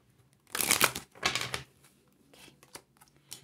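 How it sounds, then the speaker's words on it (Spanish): Tarot cards being shuffled by hand, two loud riffling bursts followed by softer, scattered card slides and taps, close up without talk. "Vamos a revolver un poquito más."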